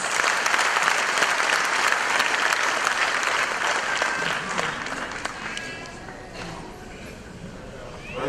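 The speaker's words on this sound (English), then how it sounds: "Please welcome him with a round of applause." An audience at a Dena Bank platinum jubilee celebration applauds loudly and steadily, the dense clapping tapering slightly toward the end.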